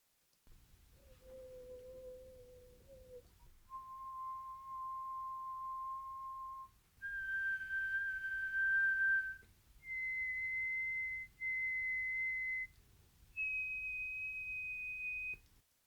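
A person whistles single pure notes one after another, each held for a couple of seconds, stepping higher in pitch, clear and close with no other sounds.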